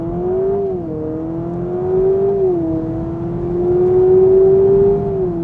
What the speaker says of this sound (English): it sounds like it's downshifting